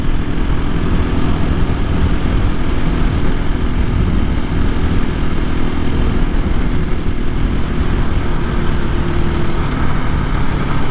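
A 2024 KTM EXC-F 500 Six Days dual sport motorcycle running at a steady speed on a trail, its engine a constant loud drone mixed with wind rush throughout, with no voices.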